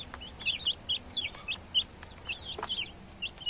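Young chicks and hens on a small farm peep and cluck while pecking at grain, a steady run of high chirps with occasional lower clucks, close by.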